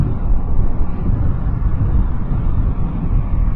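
A Kawasaki Vulcan S motorcycle in 6th gear at high speed just under 4,000 RPM: a loud, steady low roar heavily buffeted by wind rushing over the microphone, continuous with no talking.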